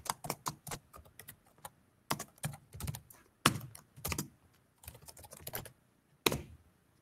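Keystrokes on a computer keyboard come in close, irregular bursts of crisp clicks as text is typed into a file, with short pauses between runs and no voices.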